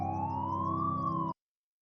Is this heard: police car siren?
yes